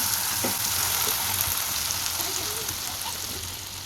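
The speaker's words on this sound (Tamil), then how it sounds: "நம்ம பொறிச்சு வச்சுருக்க சிக்கனை இப்போ இதில் சேர்த்துக்கலாம்" Fried chicken pieces sizzle in a tomato chili paste for a chicken roast, a steady dense crackle that holds loud and close throughout with a few faint stirring knocks and no talking.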